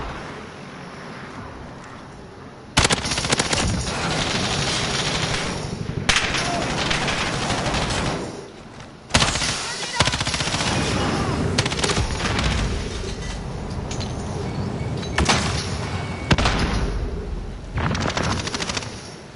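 Automatic gunfire in the video game Call of Duty Warzone rips out in several long sustained bursts separated by brief pauses, loud and close, with faint background game ambience.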